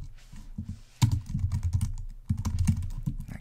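Rapid bursts of computer keyboard typing while entering app code, close and crisp, with a brief pause before a second run of keystrokes; no talking.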